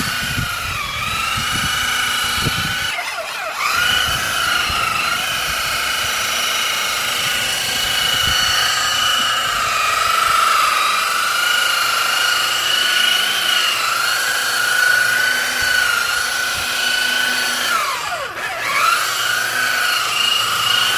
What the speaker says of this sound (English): JD has started the buffing on this here